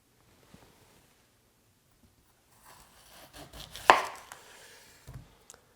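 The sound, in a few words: knife cutting a fennel bulb down the middle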